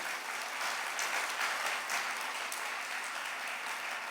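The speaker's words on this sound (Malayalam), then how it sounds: "ഒന്ന് കൈയടിച്ച് കർത്താവിനെ മഹത്വപ്പെടുത്തുക." A Catholic congregation claps steadily together in praise of the Lord, a dense, sustained applause filling the hall for the whole stretch without a break.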